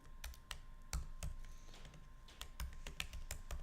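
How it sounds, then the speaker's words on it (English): Keys clacking on a computer keyboard during coding, quiet irregular taps and a few firmer strokes spread across a few seconds, close and alone with no talk. "I'm going to type in hash"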